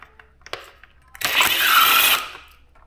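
A power driver spins on a headlight bolt of a Suzuki GSX-S motorcycle, one close whirring burst of about a second after a few small clicks and taps.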